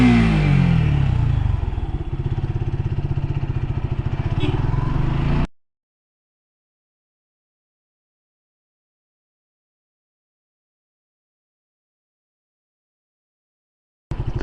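A modified Suzuki Gixxer 150 motorcycle accelerates hard in first gear, its loud, close engine roar running for about five seconds before cutting to silence, with a brief burst returning at the very end.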